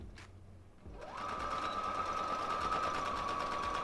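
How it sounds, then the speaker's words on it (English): After a quiet moment and a soft click, a sewing machine starts back stitching a jacket seam, running at a steady, fast whir close up until the end. "So go ahead and put your needle down and your presser foot down. And you're going to back stitch at the beginning."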